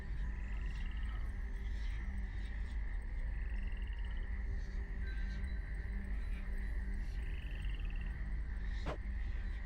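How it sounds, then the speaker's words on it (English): Frogs croaking in a quiet corner of the crossroads in the Hades II underworld game, soft repeated croaks and chirps over a low droning ambience, with a brief sharp tone near the end. "And listen to the frogs."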